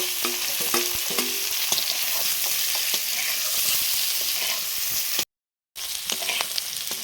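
Fried cauliflower florets tipped back into a spiced pan for cauliflower malaikari and stirred, with a loud continuous sizzle and scraping spoon strokes close up, broken by a short silent gap.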